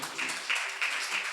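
A church congregation clapping hands together in a quick, even rhythm, a dense wash of claps filling the room, with voices faintly mixed in.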